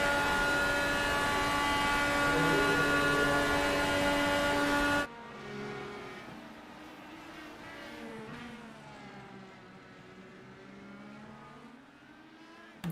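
Race cars brake hard into turn one in a racing video game, a loud high engine drone for five seconds cutting abruptly to quieter, wavering engine notes that slow and shift as the cars decelerate.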